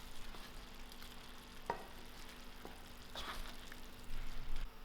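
Tomatoes cook on low heat in a pan for chicken chutney, making a faint, soft sizzle broken by a few light clicks and scrapes of stirring.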